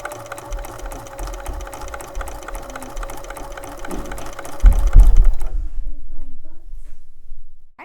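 A sewing machine stitches steadily while chain piecing quilt blocks, a close, even mechanical whir that runs for several seconds and then stops abruptly after a brief thump of handling.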